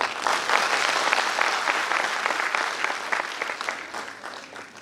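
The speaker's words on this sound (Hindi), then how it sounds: "एक बार दिल से इन 30 लोगों के लिए ताली बजाओ" A large audience at a Hindi-language business success seminar applauds heartily, a thick continuous patter of many hands that stays strong at first and gradually softens toward the end, with no talk over it.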